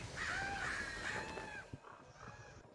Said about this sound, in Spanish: ¿Quién es ese cuervo?